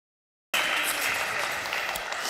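An audience bursts into loud, sustained applause for Farhat Saadou at a televised game show, the clapping starting abruptly after silence and continuing steadily to the end.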